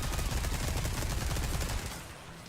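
Rapid, closely spaced gunshots in Resident Evil 4 pound without pause for nearly two seconds, then abruptly give way to a quieter tail.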